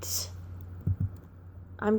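Computer keyboard typing of a search phrase comes as a few soft, brief clicks in a quiet room, with a voice briefly heard at the start and end.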